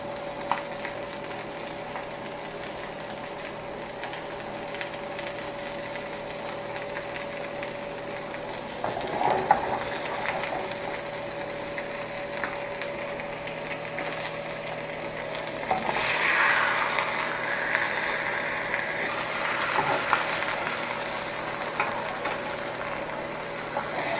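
Salmon and mixed seafood sizzling in a pan over a flame, a steady close crackle and hiss with brief louder spatters, no talking.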